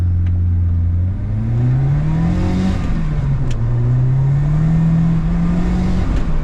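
An 80s Ford RS Turbo hot hatch engine revs and accelerates loudly up through the gears, with rising and falling engine drone and gear changes, close and continuous without talk.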